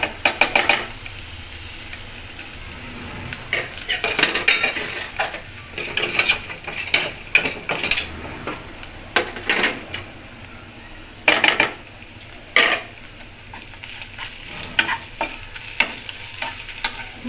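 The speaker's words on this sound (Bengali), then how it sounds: "ভালো করে মশলাটা কষাবো।" Turmeric, coriander and chili powder sizzle in hot oil with ginger and garlic while a spoon scrapes and stirs the pan for a Bengali fish-head muri ghonto, steady frying crackle broken by repeated metallic stirring clatter.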